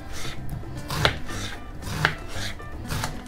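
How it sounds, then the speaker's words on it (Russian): A knife finely chops an onion on a cutting board, giving a few distinct, close, crisp chops with soft slicing and rubbing between them and no talking. "Нам нужно измельчить луковицу мелко."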